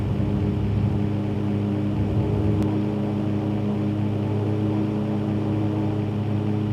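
A small propeller airplane's engine drones at full power during a night takeoff roll in the X-Plane flight simulator, a steady, loud, continuous hum with no talking.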